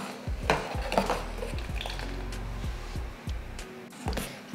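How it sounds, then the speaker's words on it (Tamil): A spoon stirs sugar and cardamom into sago payasam in a metal pot, with repeated scraping strokes and clinks against the pot over a low steady bubbling hum, close and fairly loud, with no talk. "இதை கலந்து விட்டுறலாம்."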